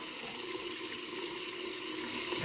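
Tap water pours steadily into a small container for shaving soap, a continuous close splashing hiss that runs unbroken from start to finish with no voices.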